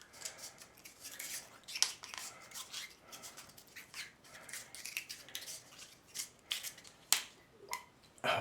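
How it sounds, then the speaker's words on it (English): Faint, close crinkling and rubbing of white sealant tape being wound around pipe threads during a shower door install, in soft irregular bursts with a few sharper clicks. "Just wind it right around the threads."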